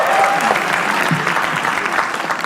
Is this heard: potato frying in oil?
no